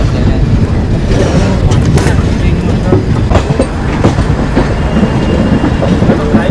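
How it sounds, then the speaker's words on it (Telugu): A train rolls along the tracks toward Raipur with a loud continuous rumble and rhythmic clickety-clack of wheels on rail joints, steady throughout. "ఇంకా ట్రైన్ ఇలాగా వెళ్తూ ఉంది"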